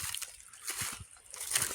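Footsteps slosh through a shallow creek in dry autumn woods, a few uneven splashing strides with watery trickling between them, close by and moderately quiet.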